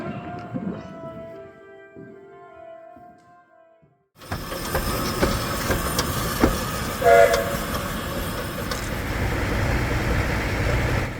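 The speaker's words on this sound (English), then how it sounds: "the enchanting journey from Caernarfon to Porthmadog aboard the historic Festiniog Railway" The historic Ffestiniog Railway train rumbles along on the journey between Caernarfon and Porthmadog, a steady close rolling noise with a short sharp whistle or horn blast, following a quieter opening with faint background music.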